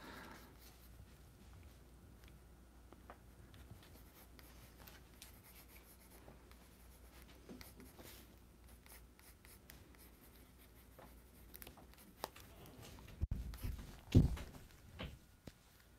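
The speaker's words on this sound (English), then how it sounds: "We're going to switch to graphite pencil to tighten up the details here" A graphite pencil scratches and rubs steadily across paper in a faint, close, continuous drawing sound, with a few louder thumps and handling noises near the end.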